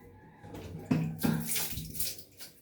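Water running from a household water filter, a splashing gush that swells and ebbs over a couple of seconds, close by with no talking.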